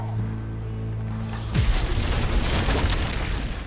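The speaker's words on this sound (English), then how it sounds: "before they could act, a bomb suddenly exploded." A film bomb explosion erupts as a sudden heavy boom about midway, following a low sustained hum, then a loud rumbling blast and debris roar fills the rest.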